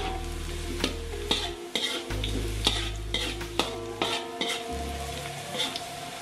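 Chili vegetables stir-fried in a pan sizzle in bursts with short quiet gaps, punctuated by sharp, close spatula clanks and scrapes against the pan at an irregular pace.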